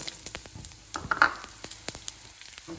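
Ginger, garlic and coriander seeds dry-roast in a pan, giving off soft crackles and light scraping ticks at an uneven pace, close and fairly quiet.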